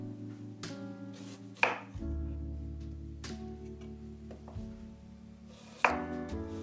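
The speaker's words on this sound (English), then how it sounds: "Start by cutting the ginger into thin juliennes" A knife on a cutting board slicing ginger into thin juliennes, giving a few crisp, separate chops with quiet pauses between them, close and fairly soft.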